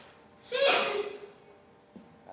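A single sharp sneeze bursts out at close range, loud and breathy, followed by a faint trailing breath in an otherwise quiet room.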